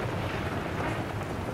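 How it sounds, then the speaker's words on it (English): Thunder rumbles in the video game Skyrim, a dense, continuous low roll mixed with rain-like hiss, steady and fairly loud for a brief moment with no talk over it. "Can't hear you over the thunder."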